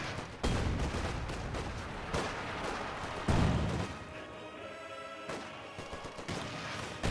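Gunfire and explosions in a Company of Heroes 2 battle, sharp cracks and heavy booms at irregular intervals over a busy background of combat noise.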